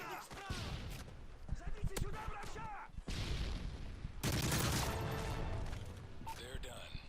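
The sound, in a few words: gunfire in a video game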